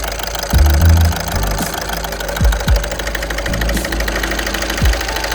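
A car engine running roughly with fuel injector number 4 disconnected, a loud idle with uneven low knocks and thumps at irregular intervals.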